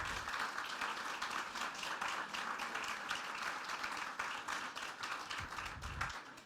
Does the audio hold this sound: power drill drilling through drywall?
no